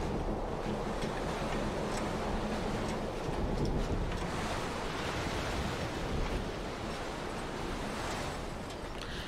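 Steady wind sweeping across moving grass and vegetation in the Dear Esther game world, a constant broad rushing wash that swells slightly midway and carries on without break or voices.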